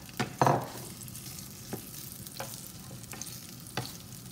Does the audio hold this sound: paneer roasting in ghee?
yes